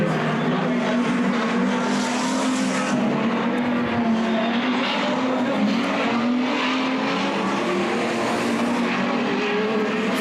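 Street stock race cars running practice laps on a track freshly watered down, a steady loud engine drone with tire noise throughout, no talk.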